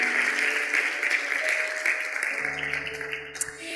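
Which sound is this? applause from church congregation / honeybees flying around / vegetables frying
applause from church congregation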